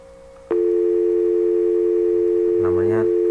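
A telephone call placed through a communication app produces a loud, steady, continuous tone that starts abruptly and holds; near the end a voice begins speaking over it.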